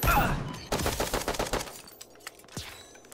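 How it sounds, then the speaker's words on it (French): Gunfire in the 2D battle royale mobile game Bullet Echo: a rapid burst of a dozen or so sharp shots, then a few scattered fainter pops, in a short, fairly quiet passage. "Ça tire encore là-bas."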